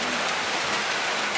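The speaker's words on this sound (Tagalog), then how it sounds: "ang lakas-lakas na ng ulan" Heavy rain pours steadily in the countryside during a rice harvest, a dense, unbroken hiss of drops with no voices.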